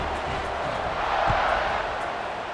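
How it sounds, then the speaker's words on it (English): Stadium crowd in College Football 26, a steady buzzing murmur of many voices with a brief swell of cheering midway. "this crowd is buzzing after that last score"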